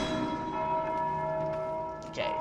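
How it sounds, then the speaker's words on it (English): Bells being struck in Dark Souls II ring with a sustained, resonant metallic tone that hums steadily, then a fresh strike near the end. "Okay, so that's what's making the noise. People are hitting them."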